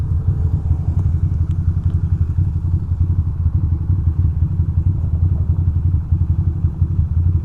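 A motorcycle engine idles unevenly in cold weather, a steady low rumble with slightly irregular pulsing and occasional clatter, close and continuous with no talk.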